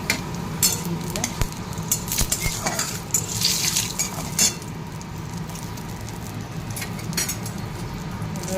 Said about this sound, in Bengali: এবার দিয়ে দেবো তেজপাতা, এবার দিয়ে দেবো শুকনো লঙ্কা দিয়ে দিলাম।